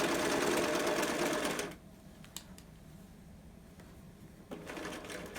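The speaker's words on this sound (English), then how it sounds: "Now you're going to be sewing over that elastic, so back stitch over that elastic to give that a little bit more security." Sewing machine stitching an adult fabric mask and back-stitching over elastic, a fast close buzzing whir that stops abruptly, leaves a few soft clicks, then starts again near the end.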